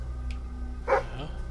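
A dog gives a single short bark in the video game Fable 3, a brief mid-range yap over a steady low background hum.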